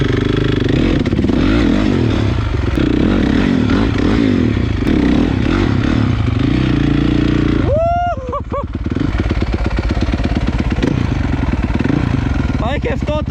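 Dirt bike pulled out of a lake, running with an aftermarket exhaust, its loud raspy engine idling and revving steadily close by, with clattering and someone talking over it.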